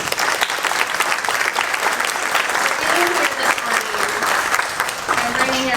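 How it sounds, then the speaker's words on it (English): A big round of applause from a roomful of people at a leadership roundtable, dense, continuous clapping close and loud throughout, with a few voices mixed in. "let's just do a big round of applause to everybody in this room."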